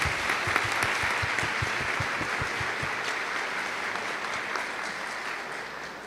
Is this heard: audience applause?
yes